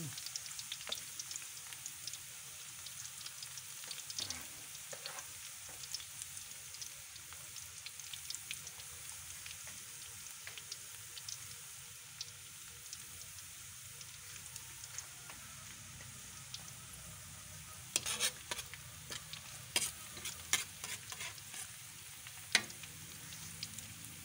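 Fish lumpia filling sautéing in a frying pan, a soft continuous sizzle with scattered crackles and occasional louder pops, heard close and alone.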